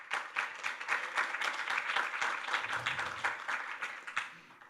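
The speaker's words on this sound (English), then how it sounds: "So you can, yeah, give a clap for" Audience at a Ruby programming conference's lightning talks clapping for an ebook giveaway, a moderate round of applause with uneven, pulsing claps heard from within the room, fairly quiet overall.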